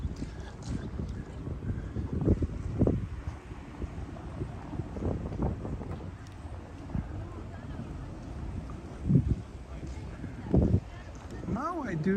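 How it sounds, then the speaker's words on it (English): Wind gusts buffet the microphone outdoors on a walk through Narita, Chiba, a low blustery rumble rising and falling over several seconds, with a voice talking over it at times. "Oh, wind is picking up a little bit."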